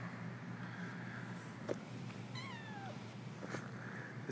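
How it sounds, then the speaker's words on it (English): Kitten giving a single short, high, wavering meow midway through, faint against a quiet room hum with a couple of small knocks. "This guy is the biggest out of all the kittens and has the most baby meow of all of them."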